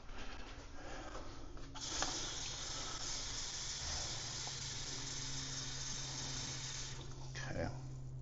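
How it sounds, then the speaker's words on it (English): Tap water runs steadily into a pot for cooking shrimp and grits, a continuous close splashing hiss lasting several seconds, with faint kitchen sounds underneath. "Let's just fill this up, the remaining amount, with water."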